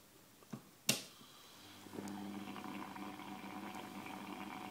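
A couple of faint clicks, then a steady low fizzing and bubbling of water in an HHO electrolysis cell with carbon fiber electrodes, continuing quietly to the end.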